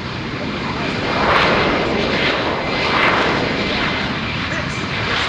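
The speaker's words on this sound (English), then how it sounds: "This is the Lightning II." A US Marine Corps F-35B Lightning II jet with its Pratt & Whitney engine hovers at an airshow, a loud, steady broadband roar that swells slightly twice as the thrust shifts, with a crowd announcer talking over it.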